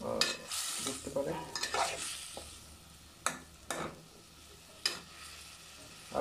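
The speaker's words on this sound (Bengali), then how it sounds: "আলুটা দিয়ে ভালো করে নেড়ে দিব যাতে আলুর ভিতরে সবগুলো মশলা" Potatoes are stirred into a spice mix in a pan, giving sharp scraping strokes and occasional knocks of the spoon at irregular intervals over a faint sizzle, close and quiet with no talking.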